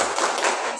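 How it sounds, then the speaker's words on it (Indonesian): One short burst of hand clapping, a quick flurry of dull slaps lasting under a second at close range. "Sekali lagi. Tepuk tangan."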